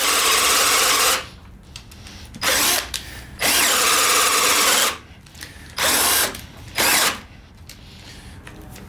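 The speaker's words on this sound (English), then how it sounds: "Let's drill another 3/4 hole with it." A cordless drill runs loud and close in several long bursts, pausing and restarting as it bores a 3/4-inch hole through material, with no talking.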